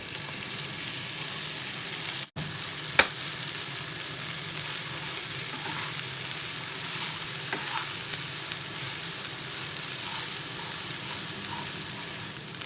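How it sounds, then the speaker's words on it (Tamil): Shredded cabbage for poriyal sautéing in a pan, a continuous close sizzle with occasional stirring scrapes and one sharp knock early on. "வதக்கிட்டதுக்கப்புறம் கொஞ்சமாக கோஸ் கொஞ்சமாக கொட்டி வதக்கிடுவோம்"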